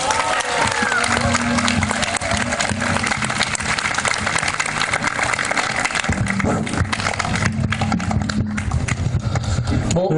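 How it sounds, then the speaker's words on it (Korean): At an outdoor candlelight rally in Daejeon, a crowd applauds loudly to welcome a lawyer to the stage, a dense, continuous roar of clapping with some cheering and amplified noise mixed in. "이석범 변호사님을 큰 박수로 모시겠습니다"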